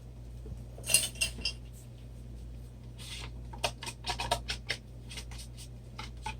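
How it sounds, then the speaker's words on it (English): Thick ready-made pouring paint scraped out of a cup with a utensil, a string of faint clinking scrapes and taps in irregular bursts against a quiet background. "So let's we'll scrape the paint out of here."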